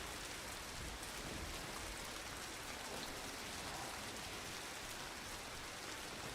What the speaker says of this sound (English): It is raining inside